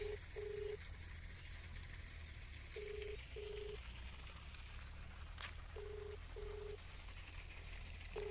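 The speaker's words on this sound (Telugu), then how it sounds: "రింగ్ అవుతుంది అక్కకి." A telephone ringback tone repeats in paired beeps with pauses between, faint and steady over a low background hum.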